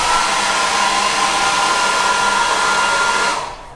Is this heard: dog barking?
no